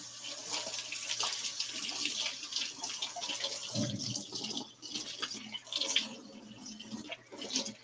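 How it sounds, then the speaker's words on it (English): A tap runs while someone washes their hands: a faint, steady rush of water splashing into a sink indoors, alone and without talk. "I'm going to take just a second to go wash my hands real quick."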